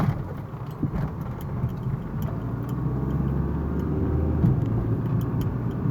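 Steady mid-low rumble of a Mitsubishi Lancer 1.5 E-Car engine idling, even and continuous throughout, growing slightly fuller toward the end with no voices.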